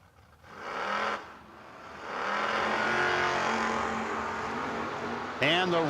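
A 1979 Ford Mustang drag race car launches at a drag strip. The engine rises in a loud, revving roar that holds steady, with tonal engine harmonics and a sharp burst near the end, while an announcer talks over it.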